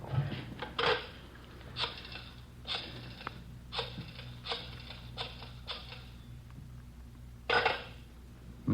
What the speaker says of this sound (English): Joe, you slide the phone over?